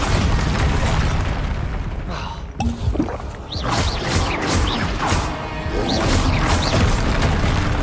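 A Bombarda blasting spell in Hogwarts Legacy lands among loud, busy combat noise, with a sharp crash and booming impact followed by clattering debris and repeated whooshing spell bursts over a dense battle background.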